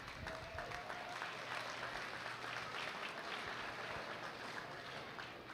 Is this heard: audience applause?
yes